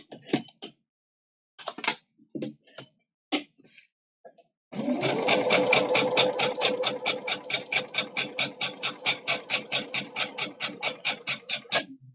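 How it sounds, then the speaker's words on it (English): Sewing machine stitching a queen-size Christmas quilt binding, heard after a few scattered handling clunks and bumps, then running steadily at close range with a fast, even repeating needle rhythm. "this is why we didn't shut the sewing machine down either"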